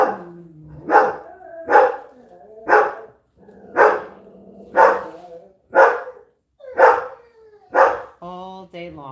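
A dog barks repeatedly in close, loud, evenly spaced bursts, about nine in a row, with a whine at the end, in a home while a wreath is being made.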